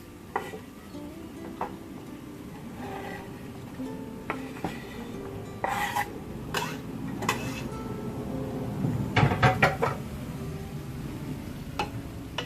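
Eggs being stirred into potatoes in a pan for aloo anda sabji, with a spoon repeatedly scraping and clinking against the metal in an irregular rhythm over a faint sizzle, close by and fairly quiet.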